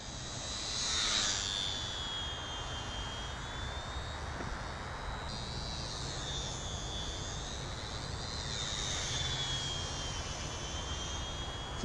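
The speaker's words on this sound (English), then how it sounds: "Alright, let's try to land this plane." A HobbyZone Champ RC airplane flies overhead with a continuous high electric motor whine that rises and falls in pitch as it passes, alone and fairly loud throughout.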